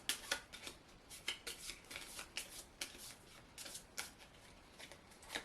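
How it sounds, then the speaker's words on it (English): Playing cards for a board game are riffled and shuffled in quick repeated bursts, quiet and close, with no talking. "We're going to be shuffling up their cards because they've run out."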